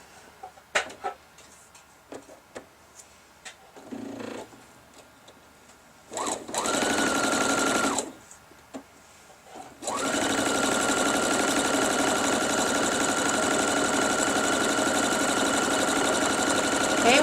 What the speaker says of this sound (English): I'm sewing 1/4 inch away from it